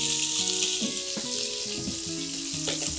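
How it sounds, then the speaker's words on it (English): Tofu sizzles in hot oil in a pan, a steady bright crackling hiss close by, with a few clinks and shifting tones from the cookware underneath. "I'm gonna add a little bit of oil to the pan. So that's getting hot. Add the tofu right to the pan."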